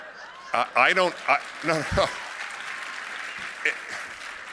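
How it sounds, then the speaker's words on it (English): Audience applause breaks out at a keynote speech by a speaker, rising after a short stretch of someone talking and continuing as steady, moderately loud clapping, with a few faint chuckles. "There's no reason to applaud me"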